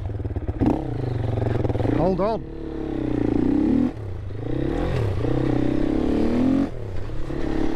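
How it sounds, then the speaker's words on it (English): A Herald Brute 500 single-cylinder motorcycle with an aftermarket muffler, its loud, close exhaust thumping and revving through rising and falling engine notes, with a brief spoken remark over it. "Very noisy, being a single cylinder, and with that muffler as well, my exhaust."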